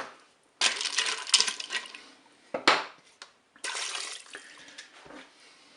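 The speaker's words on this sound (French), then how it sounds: "Je vais verser l'eau pour recouvrir tous les ingrédients." Water pours into a Cookeo multicooker pot over tuna pasta ingredients in bursts: a splashing pour, a short splash, then a longer pour, close and fairly loud.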